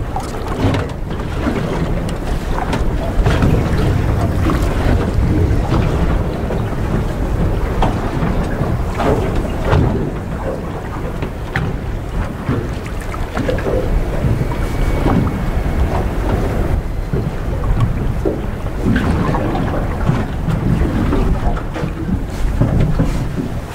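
Strong wind buffets a fishing boat at sea among the sheltered skerries near Selvaer island by Træna, Norway, with steady loud gusting roar and wind noise on the microphone throughout and occasional knocks and water slaps, no talking.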